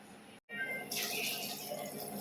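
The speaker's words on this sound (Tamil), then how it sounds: "தண்ணி சேர்த்தாச்சு" Water pours into a cooking pot of carrots and beans being readied for pressure cooking, a steady close splashing stream that starts after a brief gap and continues throughout.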